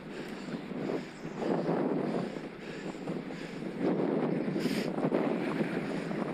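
Headwind roars and buffets across the microphone while riding a Scott Addict e-road bike in the evening, a rough gusting rush that rises and falls without speech.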